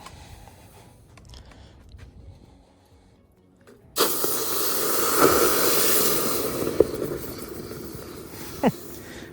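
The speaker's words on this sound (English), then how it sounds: "Big puff of steam" A few quiet seconds, then a sudden loud hiss of steam from hot glass plunged into a bucket of water to make frit, sustained for several seconds with a couple of sharp crackles.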